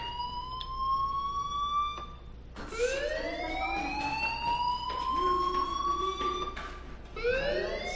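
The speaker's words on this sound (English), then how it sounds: "Hey, do you hear that fire alarm?" A fire alarm sounds inside the Life is Strange video game, a series of loud, rising electronic siren sweeps that repeat steadily and start again after brief breaks, set over a low constant background hum.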